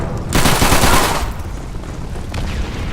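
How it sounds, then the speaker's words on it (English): Submachine gun fire in the World War II shooter Call of Duty 3 comes as one loud, close burst of rapid shots lasting under a second, followed by fainter distant gunfire and battle noise. "this is where the SMGs really come in handy"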